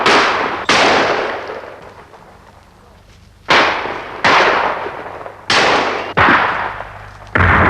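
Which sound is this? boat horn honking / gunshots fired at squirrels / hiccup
gunshots fired at squirrels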